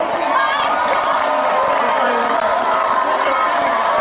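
A large crowd cheers and shouts continuously as a speaker is being shut down, a dense sustained roar of voices with scattered whoops and some clapping throughout.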